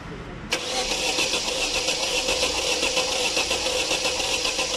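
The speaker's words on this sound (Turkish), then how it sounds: "şimdi marşımıza basacağız arkadaşlar" An Opel Astra H engine cranks briefly and then catches, settling into a steady, loud idle that runs on without pause.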